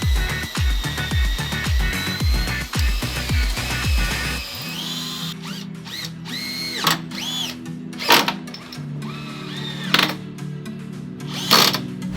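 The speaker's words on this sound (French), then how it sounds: "Je vais prendre la perceuse et on essaie de visser ça." A power drill drives screws into a bike mount, first in rapid stuttering bursts of a clicking motor, then in short whining spins with pauses between them, close up and loud.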